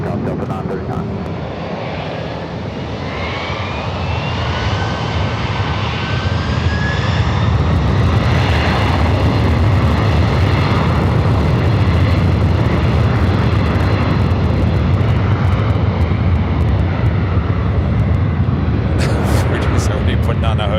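A Delta jet airliner takes off at LAX: a loud, broad engine roar swells over the first several seconds, then holds at full power, steady and close, for the rest of the clip.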